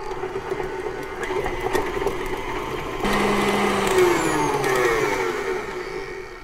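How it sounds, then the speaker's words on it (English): A stand mixer with a paddle attachment beats butter, giving a steady motor whir with a rhythmic churning texture that grows fuller partway through, close and unbroken. "Here I have a standing mixer with paddle attachment. I'm going to add my butter. And let it beat until the butter kind of softens up."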